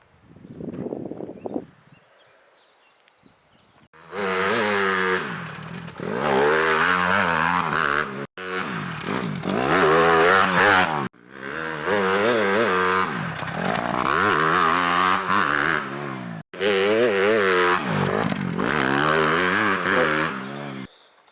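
A motocross bike on a dirt training track revs hard through repeated bursts of acceleration, loud and close, with short gaps between each pull as the rider works the throttle.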